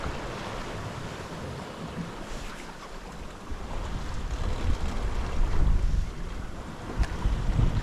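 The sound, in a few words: wind while sailing a boat off Skye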